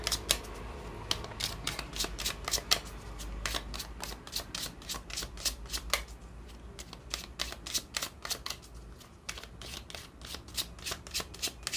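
Lenormand (baralho cigano) card deck being shuffled, a steady run of quick crisp riffling snaps close to the mic, continuing without pause and with no talking.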